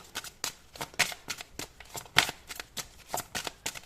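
Tarot cards shuffled by hand in a steady run of crisp, riffling flicks and soft slaps, each burst short and close, repeating roughly every half second with no talking.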